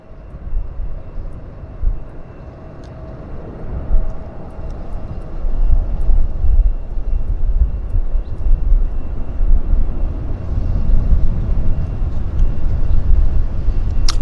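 Aircraft passing at Vancouver airport, a loud, broad engine roar that swells and stays heavy with deep rumble, alone without voices.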